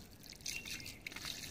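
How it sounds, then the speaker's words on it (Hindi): Water is poured onto soil in a rooftop garden pot where spinach is grown, making a soft, faint trickling and dripping that runs steadily and close by for a moment. "और थोड़ा डाल देती हूँ पानी"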